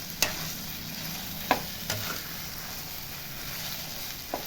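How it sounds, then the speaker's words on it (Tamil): Green chicken sautéing in oil in a pan, a soft steady sizzle with a few sharp clicks of a spoon stirring against the pan. "நல்லா வதங்கட்டும்."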